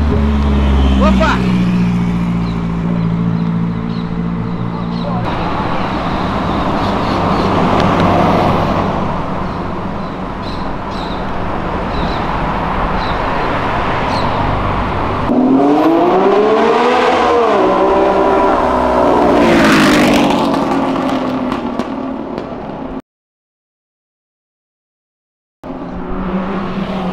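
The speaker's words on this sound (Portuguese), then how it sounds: "a moto com o ronco mais bonito que eu já vi" A motorcycle engine roars on Avenida Europa, revving and rising in pitch in bursts amid car and street traffic noise, loud and close, with people talking.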